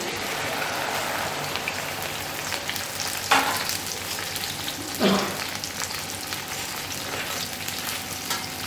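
Okra frying in hot ghee gives a steady, dense sizzle throughout, with two brief louder pops or stirring clatters partway through and no talking.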